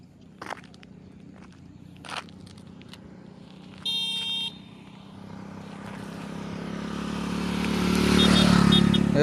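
A few footsteps sound close by, then a vehicle approaches along a roadside and grows into a loud, rising engine drone as it passes near.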